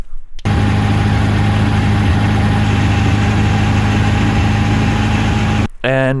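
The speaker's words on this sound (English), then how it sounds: "the power steering, it's leaking, so when you drive you can almost not turn the wheel and it's making really strange noises" Volvo 740 from the 1980s with a leaking power steering system, engine running steadily with a loud, continuous droning hum and strained whine, ending abruptly near the close.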